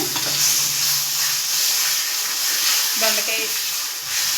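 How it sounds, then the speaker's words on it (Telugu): Ivy gourd chutney fries in a pan with curry leaves and dried red chilli, giving a steady close sizzle and hiss throughout, with a few faint scrapes and clinks of stirring partway through. "పచ్చడి కొంచెం ఫ్రై అవనిద్దాం"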